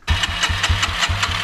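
A dualsport motorcycle engine flooded from lying on its side, coughing and catching in quick uneven pulses as it struggles to start, loud and close.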